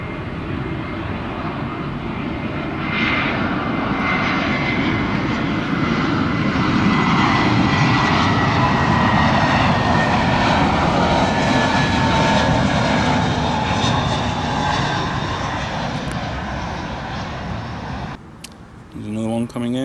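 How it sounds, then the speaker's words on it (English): An airplane passes close overhead near an airport at Cala Gamba, its loud engine roar swelling and holding for most of the stretch before fading, with faint background sound and no clear voices. "You can watch the planes come flying really close to you."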